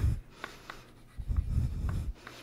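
Chalk or marker scratching on a lecture board during a mathematics talk, two short bursts of tapping, scraping strokes close by, with no speech over it.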